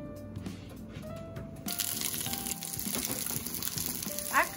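Garlic and chiles de árbol dropped into hot oil with tomatoes in a pan, a quiet start breaking into a sudden steady sizzle that carries on close and bright to the end.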